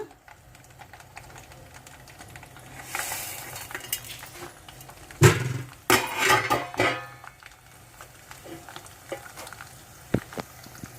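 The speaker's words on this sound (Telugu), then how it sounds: "వేగుతున్నాయండి ఇప్పుడు ఈ పోపులు కూడా వేసేసుకుందామా" Oil crackles and sizzles steadily as tempering spices and peanuts fry for lemon rice, with a louder burst of popping midway and a few sharp clinks of a utensil against the pan.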